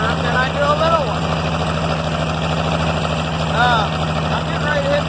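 An IH Farmall 706 tractor engine runs steadily at a low idle-like rumble with a constant deep hum, loud and close, while a person talks intermittently over it.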